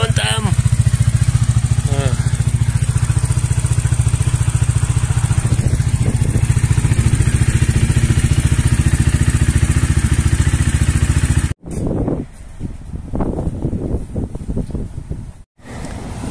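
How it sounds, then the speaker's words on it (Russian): A Bajaj Dominar motorcycle's engine runs with a loud, steady low drone and clattering mechanical noise. Wind buffets the microphone, then the engine note changes and the sound drops out briefly, as if the bike is pulling away. "Надо покатать мотоцикл."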